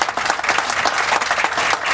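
Crowd clapping steadily at a groundbreaking ceremony outdoors, a continuous, fairly loud wash of many hands for two seconds with no talk over it.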